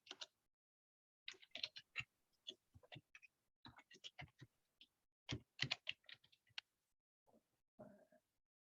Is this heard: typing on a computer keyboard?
yes